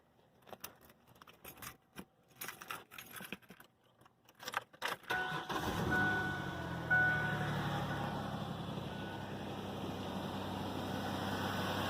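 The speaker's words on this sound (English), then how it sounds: "So I'm going to start up the truck just so that's ready to go." Keys jangle and clatter, then a truck engine turns over and settles into a steady, low idle.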